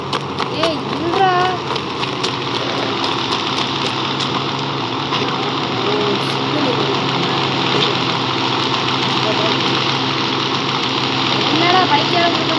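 A motorbike engine idles in a steady, continuous rumble that holds throughout, with voices talking over it.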